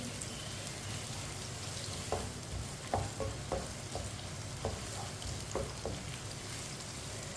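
Onions browning in a pot for aloo pulao, stirred with a spoon: a soft, constant sizzle with occasional light taps and scrapes of the spoon.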